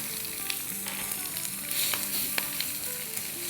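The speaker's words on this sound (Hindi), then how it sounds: "साथ ही इसमें डालेंगे 1 टेबल स्पून कुटा सा लहसुन" Green chilies and crushed garlic fry in a pan, giving a steady close sizzle with occasional sharp crackles and pops throughout, no voices.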